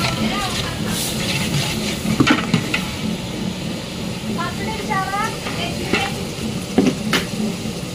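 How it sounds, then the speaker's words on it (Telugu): Carrots are tipped into a large biryani pot, part of a 20 kg vegetable biryani batch, and stirred: a continuous loud sizzle with scraping stirring strokes, while voices talk nearby. "క్యారెట్ వేస్తున్నారండి."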